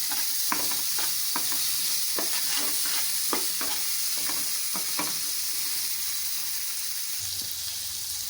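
Thinly sliced tomato pieces sizzle in a hot pan for a Rayalaseema-style uggani, with a steady frying hiss broken by repeated scraping stirs of a spoon, close and continuous with no talking.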